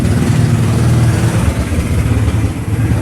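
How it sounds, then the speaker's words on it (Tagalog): A motorcycle engine running close by, a loud low rumbling idle with slight rises and dips in revs, heard alone. "Pasensya na po, maingay po yung motor."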